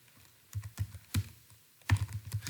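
Keys clatter on a computer keyboard as code is typed, short clusters of soft clicks separated by brief pauses, close and fairly quiet, with no speech.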